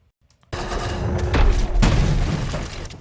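A sudden heavy explosion blast in the video game Paragon erupts after a near-silent start, a loud booming roar that rumbles and crackles for over two seconds with a sharp secondary crack midway.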